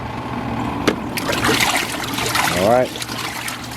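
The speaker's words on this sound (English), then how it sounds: "for this first one, I'm gonna do a 5-minute rinse" A Costway portable washing machine runs a rinse cycle, with water trickling and sloshing steadily near the mic, broken by a brief rising squeak as a person speaks briefly.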